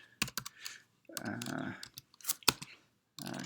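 Computer keyboard keys clicking in short bursts and a steadier typing run while text is entered into an online whiteboard, close and moderately quiet, with brief pauses between bursts.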